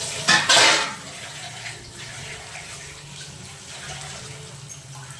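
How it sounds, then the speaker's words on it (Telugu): A metal lid clatters onto a cooking pot of simmering brinjal masala curry, a short loud clank near the start, followed by quiet kitchen background noise. "మూత పెట్టుకోవాలి."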